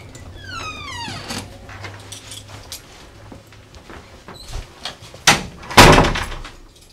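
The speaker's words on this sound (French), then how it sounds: "Tu ouvres la porte?" An indoor door is opened with a creaking sweep of the hinge, then scrapes and handling knocks, followed by two loud, close bangs as it swings and strikes near the end; no one speaks.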